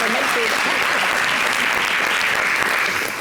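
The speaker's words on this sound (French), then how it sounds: "faut applaudir" Studio audience applauding on a French-language television talk show, a steady dense wash of clapping throughout, with a voice speaking faintly underneath.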